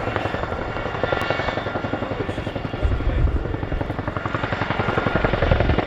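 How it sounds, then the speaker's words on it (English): A Royal Air Force Chinook HC.6A helicopter hovers at an air show display, its twin rotors producing a loud, rapid, continuous blade chop that swells slightly toward the end, with a commentator's voice over a public address underneath. "The aircraft will come to the hover and give you a quick picture of us in the hover"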